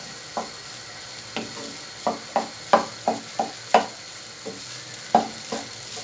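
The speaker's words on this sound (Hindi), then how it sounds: "अब आंच को थोड़ा सा तेज कर लें और इसकी फाइनल भुनाई कर लें।" Semolina and egg halwa being roasted in a pan over raised heat, with a series of soft stirring scrapes and light sizzle bursts at an irregular rhythm, close and fairly quiet, no talking.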